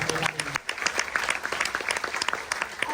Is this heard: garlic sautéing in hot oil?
no